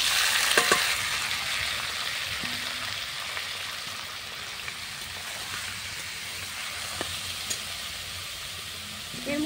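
Chopped ash gourd fries in oil with radhuni tempering on a clay stove, a loud, dense, continuous sizzle with a few sharp spatters and clinks near the start and end, close-up.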